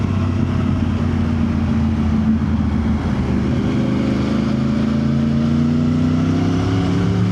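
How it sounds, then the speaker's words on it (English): A Yamaha R1 motorcycle engine drones loudly and steadily, its pitch dropping and then rising again as it brakes through downshifts, with no talk. "But that's my engine doing all the braking for me."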